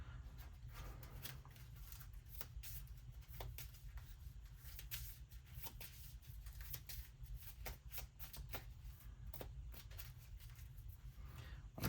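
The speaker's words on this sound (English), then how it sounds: "I get to shuffle 2 random cards from your discard pile back into my deck." Playing cards are shuffled by hand during a tabletop board game, giving a soft, steady run of riffling and crisp card flicks close up, with no talking.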